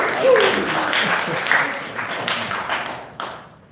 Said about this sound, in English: just be mindful when you clap and you interrupt them that they lose time